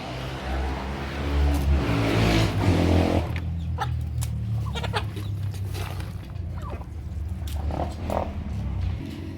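Chickens feeding and shuffling about with occasional soft clucks, over a steady low engine-like rumble, no talking.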